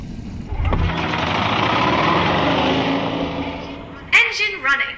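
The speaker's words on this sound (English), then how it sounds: "Engine running." A game engine in I Expect You To Die hums at a steady pitch for several seconds, close and moderately loud, then cuts off as a voice speaks over the end.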